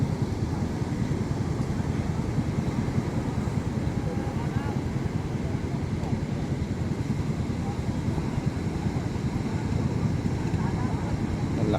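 Big sea waves around a small fishing boat off Barangay San Diego, a steady heavy low rush of wind and water that runs unbroken and loud the whole time, with no clear voices.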